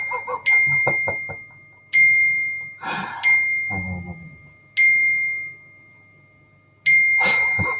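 A phone chimes over and over with bright notification dings, each a sharp ring decaying into a sustained tone, about six alerts spaced one to two seconds apart, with some breathing and rustle between them.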